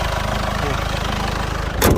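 A 2.0-litre diesel engine in a Korando C with 300,000 km idles with a steady low throbbing rumble, close and loud, before a short louder burst near the end.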